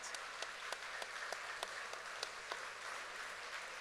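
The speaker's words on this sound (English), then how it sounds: "let's give a round of applause to our Choctaw Nation staff" Audience applause at the Choctaw Nation Princess Pageant: a dense, steady wash of many hands clapping, distant and even, with a few sharper claps standing out and no talking.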